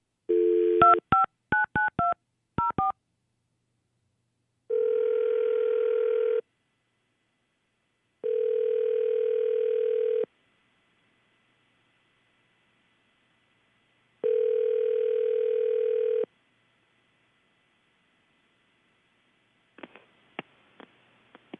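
A telephone being dialed: a quick run of touch-tone beeps, then three long dial-tone bursts separated by silence, ending with faint clicks, clear and close with no talk.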